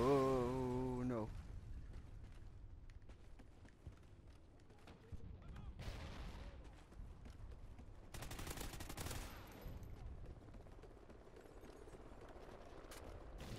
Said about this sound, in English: That was such fail shooting.